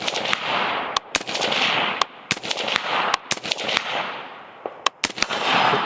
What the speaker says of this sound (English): now let's shoot a little bit